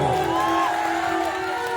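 A crowd cheers and whoops at a live Mahashivratri stage show, a dense, steady roar of voices filling the clip with no clear gaps.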